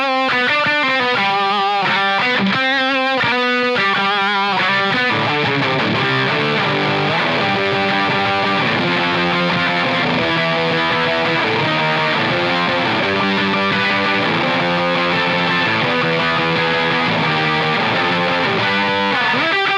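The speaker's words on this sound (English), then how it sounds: "So here's the Marshall with the Rat." An electric guitar plays through a Marshall amp with a Rat distortion pedal, giving a loud, saturated tone. A few choppy strummed chords open the passage before it settles into sustained, ringing distorted notes.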